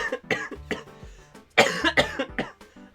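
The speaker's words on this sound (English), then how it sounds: "I've still got a really bad cough" Repeated coughing fits from a person who is ill with a bad cough, several harsh bursts in irregular clusters, loud and close.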